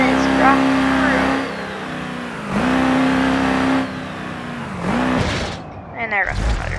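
A truck engine in a video game revs hard with the turbo boost turned up, roaring loudly in rising waves that climb in pitch and fall back, ending in a sharp burst.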